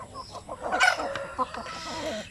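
Chickens cluck close by while eating feed, giving a brief burst of soft overlapping clucks and chatter with a louder squawk in the middle.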